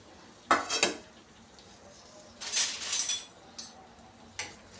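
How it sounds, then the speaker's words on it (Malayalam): Shallots going into a pan for a Kerala fish curry, heard as clinking and scraping of metal utensils against the pan in short bursts, with a faint sizzle underneath and no talking. "ഇനി ചുവന്നുള്ളി ഇട്ട് കൊടുക്കാം."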